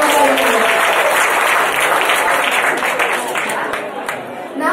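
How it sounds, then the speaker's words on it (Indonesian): Sustained applause from an audience at an office event, dense and steady clapping that fades slightly toward the end, with some voices mixed in among the crowd. "Tepuk tangan lagi dong Bapak Ibu."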